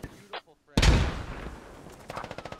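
A grenade explodes in a military shooter video game with a sudden loud blast and a rumbling, crackling decay. A voice is heard just before the blast, and sharp clattering shots follow.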